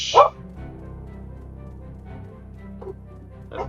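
Short high yip from a pet dog close by, then faint whimpers, with a game playing quietly underneath.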